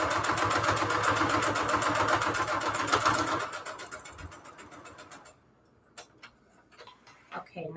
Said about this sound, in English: I need to sew a line down one of the sides